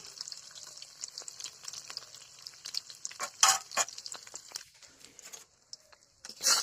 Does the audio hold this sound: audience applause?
no